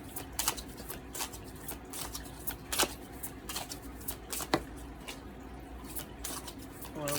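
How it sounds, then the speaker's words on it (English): Tarot cards are shuffled close by in quiet surroundings, giving soft, irregular riffling snaps and slaps spread over several seconds. "Let me shuffle real quick."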